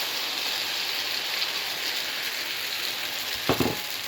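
Pancake batter frying in a hot pan, a loud, continuous close sizzle like rain, with a brief clatter near the end.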